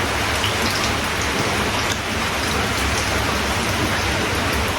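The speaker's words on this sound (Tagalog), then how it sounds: "Kung meron ka na narinig na background, umuulan pa sa amin." Steady heavy rain falling outside, a dense continuous patter at close range filling the whole stretch without a break, with no voices over it.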